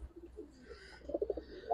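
A young pigeon at an Old Dhaka market gives soft, close coos, a few low rolling pulses building toward a brief burst near the end.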